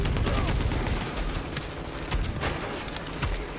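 Dense gunfire in the video game Tom Clancy's The Division, a continuous barrage of overlapping shots and rattling bursts with no pauses across the few seconds.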